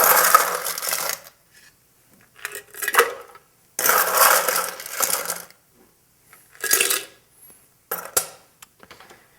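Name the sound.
ice added and stirred in Opera cocktail glass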